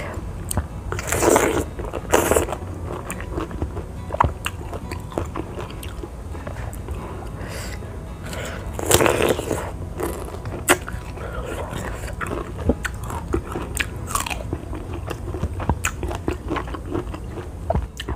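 Crunchy bites and chewing of rujak made with raw pineapple, noni and unripe papaya, close to the microphone, with repeated crisp crunches and wet mouth sounds spread irregularly through the clip.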